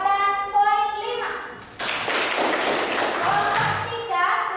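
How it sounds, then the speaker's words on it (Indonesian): Schoolchildren in a classroom clap together in a quick burst after some children's voices, with thumps and taps mixed in and a rise and fall in loudness. "Tepuk tangan"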